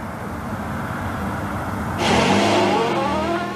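A car drives off beside a cornfield, its engine note starting as a low rumble and swelling louder and brighter partway through, close and alone.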